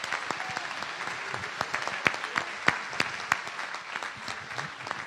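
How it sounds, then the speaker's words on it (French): Crowd at the Chaumont urban trail 24-hour race applauding the participants, a moderate spread of clapping with scattered sharper hand claps poking through, steady then easing slightly at the close. "Moi je veux qu'on applaudisse aussi tous les participants."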